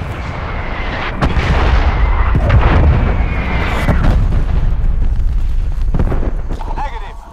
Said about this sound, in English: Get some artillery inbound on my cohorts